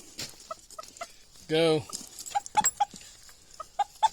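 A stubborn old rooster near chicken bath boxes crows once loudly and up close in a long wavering call, followed by scattered short clucks and other fowl sounds, with someone speaking intermittently.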